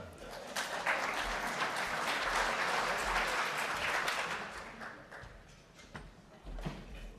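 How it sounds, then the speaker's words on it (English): Audience at a club meeting breaks into applause, a dense spread of clapping that swells, holds for several seconds, then thins out to scattered claps at a moderate distance. "And that is all, so you may applaud."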